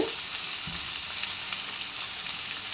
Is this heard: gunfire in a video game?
no